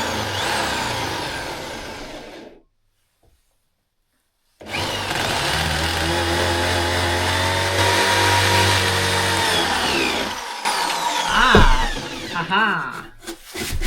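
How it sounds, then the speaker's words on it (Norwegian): A power drill bores a hole through wood from the reverse side while building a homemade toolbox, its motor whining loud and close, pausing in silence, then grinding steadily for several seconds before a short laugh. "Da borer jeg fra andre siden."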